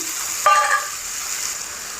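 Spices dropped into hot tempering oil for a cabbage, tomato and potato curry give a sudden loud sizzle and spatter with light stirring, then a steady frying hiss that continues to the end.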